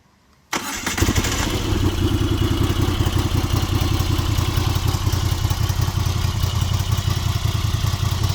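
A 2025 Moto Guzzi V85 Strada motorcycle with stock exhaust starting up after a moment of silence, then settling into a loud, close, steady thumping idle with a rough, rhythmic pulse.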